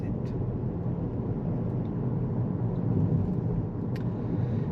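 A car pulls away and gathers speed after leaving a roundabout on a UK road, its engine a steady low rumble with broadband road noise from inside the cabin, constant and unbroken.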